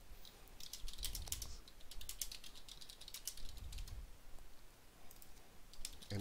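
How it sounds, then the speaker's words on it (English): Rapid, close keyboard typing on a computer comes in quick clattering bursts with brief pauses, clear and alone with no voices. "I can type something in the body."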